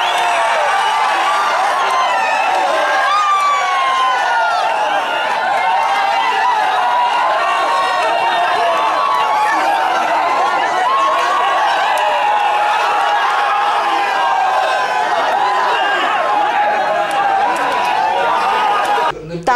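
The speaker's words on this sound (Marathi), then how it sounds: "मतमोजणी केंद्राबाहेर आघाडीचे नेते आणि कार्यकर्त्यांनी एकच जल्लोष केला।" Political party leaders and workers celebrating outside a vote counting centre after a Dapoli Nagar Panchayat election, a loud, dense crowd roar of overlapping shouts and chatter that runs steadily throughout.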